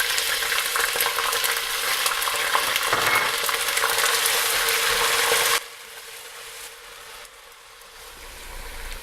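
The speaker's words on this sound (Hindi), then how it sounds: "बाकी मैं गार्लिक जिंजर शामिल कर लेती हूँ।" Garlic and ginger fry in a pan for a Sindhi biryani, a loud steady sizzle that drops sharply partway through to a quieter crackle, with no talking.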